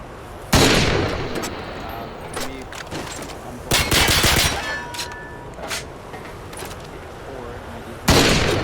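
Gunfire from a Modern Warfare 2 development build, a first-person shooter video game: sharp bursts of automatic shots with loud volleys near the start, around four seconds and at the end, separated by quieter gaps.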